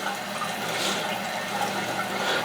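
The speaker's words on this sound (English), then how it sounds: "just fill it up by letting the water run in the overflow" Water running into a toilet through the overflow fill tube, a steady rushing and trickling of filling water that stays even throughout, close and moderately loud, with nobody speaking.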